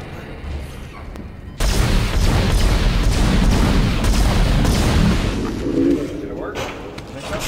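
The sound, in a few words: gunfire from shooting in the video game Dead Space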